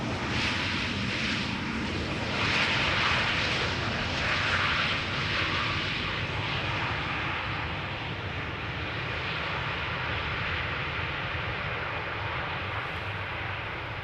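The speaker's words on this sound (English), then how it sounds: "Second Ryanair, second one not being very loud today." A Ryanair jet airliner roars overhead at Schiphol Airport, a broad, loud rumble peaking early then slowly fading as it moves off into the distance.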